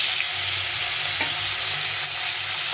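Fish frying in hot oil in a pan, a steady loud sizzle throughout with a brief sharper crackle midway, the fish having been rubbed with salt, turmeric and oil beforehand; no talking.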